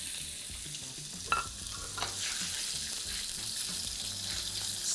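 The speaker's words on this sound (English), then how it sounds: "put your meat in and then just spread it around and make sure that it gets a nice sear on it" Pork sears in a hot pan with a steady, soft sizzle and faint crackle, a few small clatters from spreading the meat early on.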